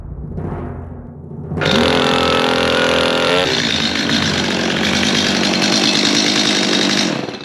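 A Stihl MS250 chainsaw, just repaired, is pulled to life and runs loud and close, a steady high snarl that briefly revs higher before settling into a sustained roar, with no talking.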